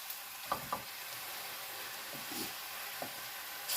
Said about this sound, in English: I want to get a good sear on the meat and get the meat